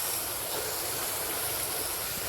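Meat searing in a Tefal non-stick pan on a gas stove, a steady broadband sizzle and hiss, fairly faint and even throughout with no talk.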